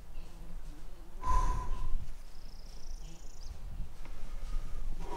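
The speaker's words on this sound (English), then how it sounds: "made like a grunting noise at me." A cow moose with her calf in the brush beside a backcountry river gives a short, breathy grunt or snort, close and sharp against a quiet outdoor background, with faint wind or water hiss continuing around it.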